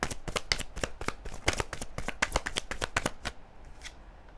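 Tarot cards are shuffled in quick, crisp riffling bursts for about three seconds, close to the listener, before the shuffling stops and near-silence follows.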